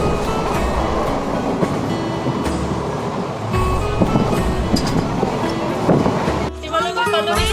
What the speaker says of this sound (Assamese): ট্ৰেইনত যাত্ৰা কৰি থকাৰ সময়ত